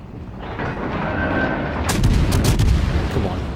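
Cruiser main guns firing a salvo in World of Warships: Legends, a rumbling roar of heavy naval gunfire building into loud booming blasts with crackling bursts near the end.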